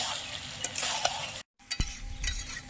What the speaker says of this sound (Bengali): এবার আলুটা দিয়ে দিচ্ছি, ভাজা আলুটা।